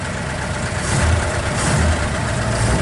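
A 1927 Elcar vintage car engine runs steadily at close range, a low, even rumble that swells slightly partway through, with no talk over it.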